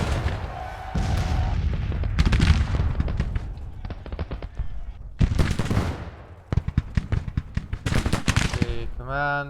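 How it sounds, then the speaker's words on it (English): Gunfire crackles through a Civil War battle video game, with dense volleys of musket shots and bursts of rapid fire, loud and close, broken by brief lulls and a short tonal in-game signal near the end. "Go there and shoot the enemy up a little."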